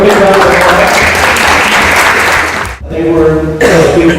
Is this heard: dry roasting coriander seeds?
no